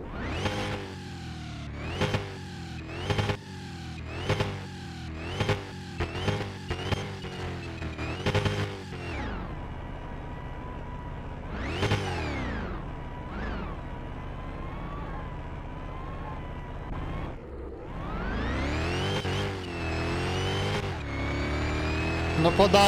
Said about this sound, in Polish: Ta sprężarka, ten dźwięk.